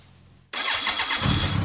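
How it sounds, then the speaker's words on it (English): A Yamaha FJR1300 motorcycle engine cranks and catches after a short near-silent pause, then settles into a loud, steady, close rumble. "Start the engine."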